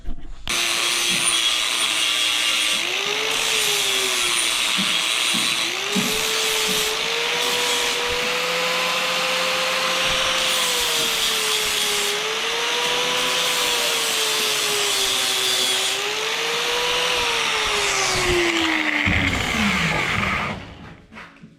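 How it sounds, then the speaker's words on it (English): A power grinder works metal during a race car build, running steadily and loud for about twenty seconds, its pitch dipping and rising as it bears down on the workpiece, then winding down. "Let's get grinding."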